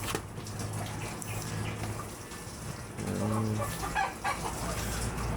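Chickens on a small, muddy poultry farm cluck close by in short bursts, with steady background noise that may include running water.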